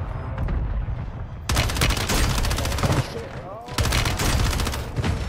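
Dense gunfire in Call of Duty Warzone on Rebirth Island, with rapid bursts and a loud barrage that breaks out after a brief lull and returns near the end, mixed with game effects and some speech underneath.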